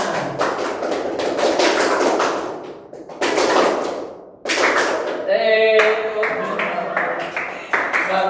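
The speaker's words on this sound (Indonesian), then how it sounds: "Coba tepuk tangan." A class of students claps hands together in a classroom, the beat quickening and then slowing in sharp, loud bursts with brief pauses, while a voice briefly rises between the claps.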